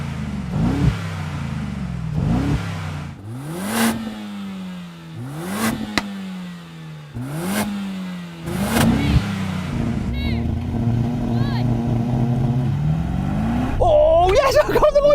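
Race cars rev and accelerate hard off a start line, engines climbing through repeated gear changes close by, with a driver talking over the engine noise.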